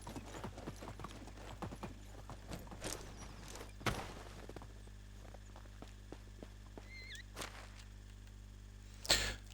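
Horse hooves clip-clop steadily in the video game Medieval Dynasty, a quiet, even walking rhythm with occasional louder knocks and a brief whinny-like sound near the end.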